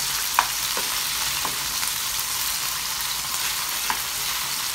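Chicken pieces for kung pao chicken frying in a pan while being turned to cook both sides, a loud, constant sizzle broken by a few sharp spatula clicks and scrapes, with no talk.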